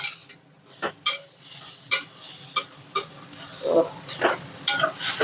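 A spoon stirs an okra vegetable curry in a pan, giving sharp scraping clinks at a roughly regular pace over a faint sizzle, close and fairly loud.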